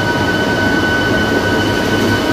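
An old local train runs on the Belur Math line, a constant loud rumble with a steady high whine above it, unbroken for the whole short stretch.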